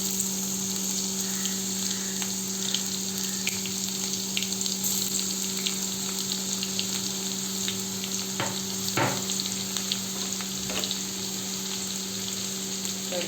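Crushed garlic hitting hot oil with cumin and mustard seeds for a vangi bhaji, a continuous close sizzle and spatter with a few sharp crackles, over a steady background hum.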